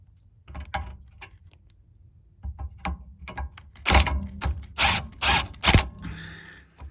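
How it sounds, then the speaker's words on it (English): An impact wrench drives a rear anti-roll bar bush bolt on a Ford Mondeo Mk4. After a few quiet mechanical clicks and rattles, several short, sharp hammering bursts come close together near the end. "And use my trusty impact."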